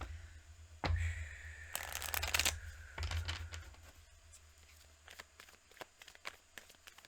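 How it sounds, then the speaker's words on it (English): A deck of playing cards being shuffled close by, with one dense riffling burst followed by lighter, scattered flicks and taps of the cards, and no talking. "As I sit here shuffling,"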